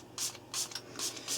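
A small spray bottle misting an OO gauge model railway diorama before glue goes on: four short, soft hissing spritzes in an even rhythm, quiet and close.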